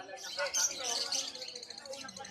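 Red birds at the Malabon pet market give bright, rapid chirps and tweets, fairly close, while a person speaks over them.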